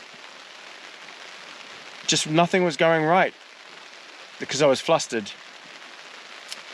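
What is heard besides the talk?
heavy rain in a gale on a car while camping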